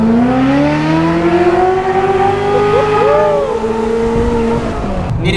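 A Ferrari F430's engine revs loud and close, a sustained rising and falling high-pitched scream with a brief pitch sweep midway, continuous for several seconds with no talking.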